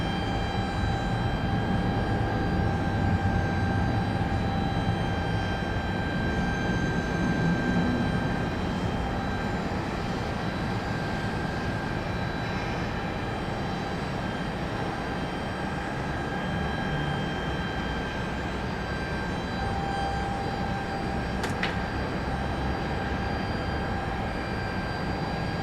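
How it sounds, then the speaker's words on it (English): An Airbus A220 jet lands at Raleigh-Durham airport as a steady, broad engine roar with whining tones, sustained and fairly loud for the whole stretch, with no voices. "Back-to-back A220 arrivals here."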